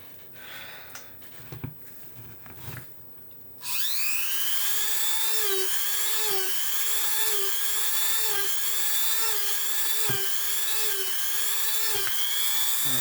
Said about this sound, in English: I'm just gonna take a moment and drill out all of the holes